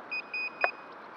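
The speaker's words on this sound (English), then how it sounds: "that's the buzzer" An electronic buzzer on an Eachine Falcon 250 Pro drone beeps twice in quick succession, a steady high tone over a faint background hiss, followed by a brief click.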